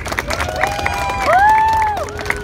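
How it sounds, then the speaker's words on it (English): Crowd cheering and whooping at a flame juggling show, with rising excited shouts and a loud swell of cheers in the middle; no clear separate claps stand out. "with people clapping and cheering"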